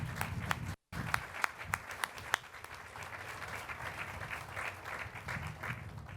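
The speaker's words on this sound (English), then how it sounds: "Let's give them all a round of applause." An audience at a university grand reopening ceremony applauds, a spread of many hands clapping steadily at moderate distance, with a few sharper individual claps standing out near the start.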